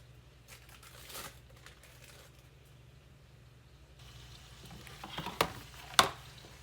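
Burger patties topped with sliced cheese frying on a hot griddle, a steady low sizzle with occasional brief scraping or spatula clatters near the end.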